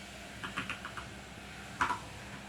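Fingers tapping a computer keyboard while entering commands on an Ubuntu server, a few quiet clustered keystrokes followed by a brief, louder double tap, with no talking.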